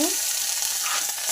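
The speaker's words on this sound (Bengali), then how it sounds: "এবার গরম তেলটা একটু পাঁচফোড়ন দিয়ে দেবো" Panch phoron spices hit hot oil in a pan after fish has been fried, giving a loud, bright, continuous sizzle that fades slightly as it settles, with no voices over it.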